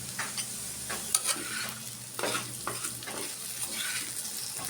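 Okra frying in a pan gives a soft, continuous sizzle, broken by repeated scraping stirs that come in uneven bursts, close by and fairly quiet.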